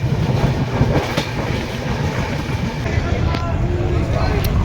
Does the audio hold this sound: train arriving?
yes